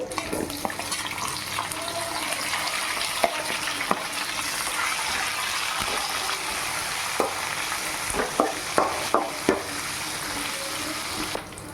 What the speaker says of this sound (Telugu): పోపు అయితే వేగింది ఇప్పుడు ఆనియన్స్ వేసుకోవాలి